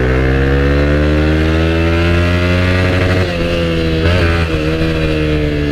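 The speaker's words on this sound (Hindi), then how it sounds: "अपाचे की अल्टीमेट पावर भाई, अपने फुल थ्रोटल पे किसी भी बाइक को पीछे छोड़ने के लिए रेडी" A TVS Apache motorcycle at full throttle on an open road, its engine a loud, close, continuous buzzing drone that holds steady and then wavers briefly in pitch toward the end, with no voices.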